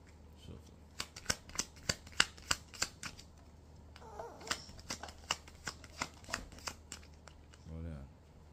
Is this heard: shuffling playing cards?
yes